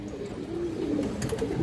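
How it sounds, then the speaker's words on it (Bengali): A large purple-necked female pigeon gives a low, soft coo, close by, with faint bird sounds behind it. "এই যে মাদিরা আপনারা দেখেন বড় সাইজের একটা বেগুনি গলা মাদি কবুতর"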